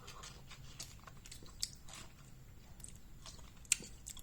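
A long crocodile egg lime (Limau Telur Buaya, green lemon citrus) being bitten and chewed up close, with faint crunchy mouth sounds and a couple of sharper bite clicks over a quiet background.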